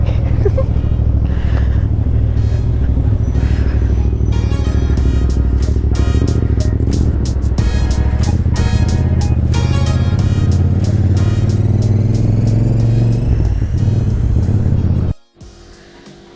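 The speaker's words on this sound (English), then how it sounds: "I miss riding a sport bike. I'm going on a ride with this guy." A sport bike motorcycle is ridden at speed, its engine note rising and falling through gear changes under steady wind roar, with voices partly audible, before the sound cuts off abruptly near the end.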